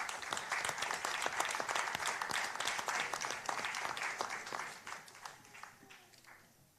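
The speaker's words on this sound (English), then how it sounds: "let's give another round of applause to Miss Chantal English" Audience applause after an informative session at an intellectual property and music industry event, a steady wash of many hands clapping that tapers off toward the end.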